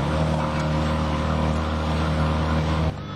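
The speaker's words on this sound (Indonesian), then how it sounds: "Mereka meluncur di atas permukaan airnya dengan speedboat." A speedboat runs steadily across the surface of the man-made Genang Gedong lake, its engine giving a loud, continuous drone with wind and water noise before it cuts off abruptly near the end.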